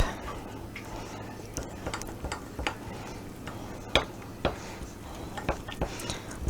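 A spoon stirs a glaze of powdered sugar and a couple tablespoons of water in a bowl, giving faint, irregular clinks and taps against the sides over quiet room tone.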